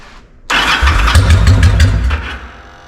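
A Yamaha V-Star motorcycle engine cranks with the choke off: after a brief quiet start the starter churns in a loud, rhythmic pulsing burst that fails to catch and fades toward the end.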